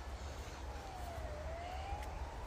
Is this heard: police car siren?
yes